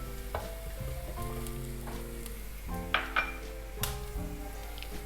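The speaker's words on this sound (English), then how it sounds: "I'm going to cook the onions until it's translucent in color, and then I'm going to add carrots and crushed garlic in this." Onions, carrots and crushed garlic fry in a pan, a continuous close sizzle broken by several sharp clinks and scrapes of a utensil stirring against the pan.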